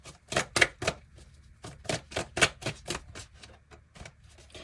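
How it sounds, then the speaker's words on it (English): Oracle cards being shuffled and pulled from a deck, a quick run of close, crisp flicks and slaps in an uneven rhythm. "So let's pull your oracle cards."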